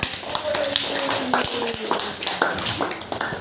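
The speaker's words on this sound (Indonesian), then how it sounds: "Tepuk tangan, pintar sekali ya" Children clap their hands in a classroom, a burst of quick, uneven claps running throughout under a teacher's voice and chatter.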